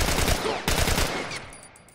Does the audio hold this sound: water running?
no